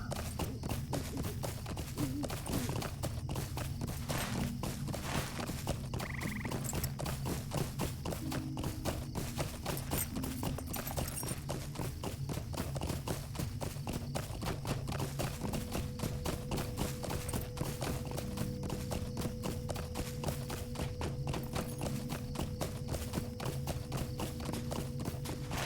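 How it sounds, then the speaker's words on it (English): Galloping hoofbeats of the Valiant Steed of the Dunedain, a horse mount in LOTRO, as a fast, steady clip-clop rhythm that runs without a break. "we'll mount up my Valiant Steed of the Dunedain"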